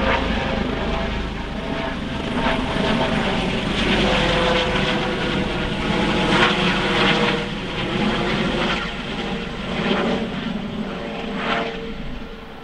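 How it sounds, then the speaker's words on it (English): A Coast Guard helicopter passes overhead outdoors in the Pacific Northwest, a loud continuous rotor and engine drone with a faint rhythmic chop that swells and eases slightly over several seconds. "We got the Coast Guard chopper coming over."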